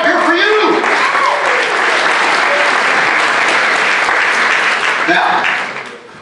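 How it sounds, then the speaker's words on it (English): A theater audience breaks into a loud, dense round of applause that sustains steadily for several seconds before tapering off at the end, with some voices rising briefly within the crowd noise. "giving a big round of applause for coming up here for you"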